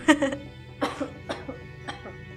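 A few harsh coughs, a cluster at the start followed by scattered single coughs, fairly close and moderately loud over a quiet hum.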